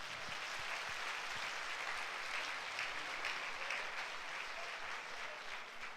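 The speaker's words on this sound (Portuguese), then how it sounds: "Vamos dar um aplauso a Jesus?" A church congregation applauding during a Sunday service, dense sustained clapping from many hands heard at a distance in a large room, steady throughout.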